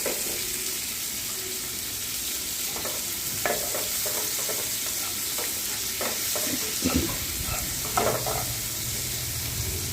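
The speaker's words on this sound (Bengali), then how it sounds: "আলুটা দিয়ে পেঁয়াজটা দিয়ে ভালো করে সামান্য ভেজে নেব" Potato pieces and onions fry in hot oil in a pan for Bengali fish curry, a steady sizzle broken by clinking spatula stirs and scrapes, close and unvoiced.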